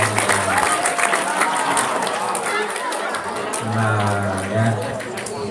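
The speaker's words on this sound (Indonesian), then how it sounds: "Beri tepuk tangan dulu." An audience at an Islamic Isra' Mi'raj sermon breaks into sustained applause, with steady clapping mixed with crowd chatter and a voice speaking over it.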